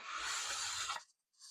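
A metal surface on a Technics SP10 Mk2 turntable gets its final brushed finish in one steady abrasive sweep off the edge: a raspy, close scrubbing that holds for about a second, then cuts to near silence.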